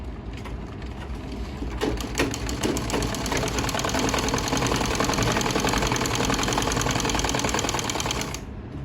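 A sewing machine runs steadily while it stitches the neck of a kameez, a loud, fast and even mechanical rattle that carries on without a break for several seconds and then stops.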